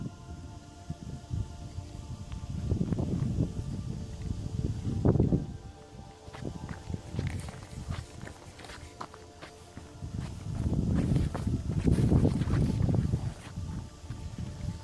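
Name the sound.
wind blowing on a coastal path in Brittany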